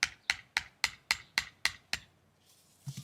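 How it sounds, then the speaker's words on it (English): A hammer taps a stake into the garden soil eight times in an even, quick rhythm, each strike sharp and close, followed by a short pause and a soft rustle. "I'll take a hammer and then I'll tap it in."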